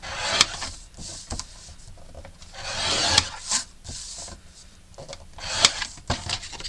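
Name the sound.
scoring paper pockets for a mini album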